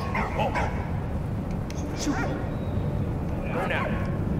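In the Valiant Hearts: The Great War video game, a dog barks in three brief spaced bursts over a constant low rumbling game background.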